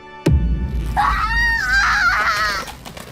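A woman screams in pain, loud and close, a long wavering shriek that follows a sharp crack and holds for about two seconds.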